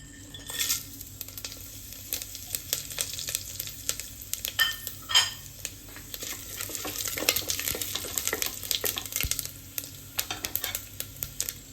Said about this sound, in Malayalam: എണ്ണ ചൂടായിട്ട് നമുക്ക് ഈ മസാലയൊക്കെ ഇടാം